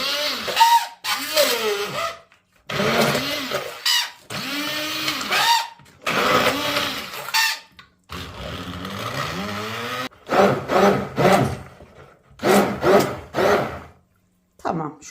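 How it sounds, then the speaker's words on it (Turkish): A blender whirs in repeated bursts of a couple of seconds each, stopping and restarting, the motor pitch shifting as the contents churn. "Şimdi tüm bu malzemelerimi homojen bir hale alana kadar blenderdan geçirelim."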